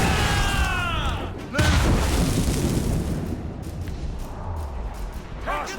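Ship cannon fire in Assassin's Creed Rogue: a single heavy boom lands mid-clip over rushing wind and sea, with shouted voices and creaking rigging sounds around it.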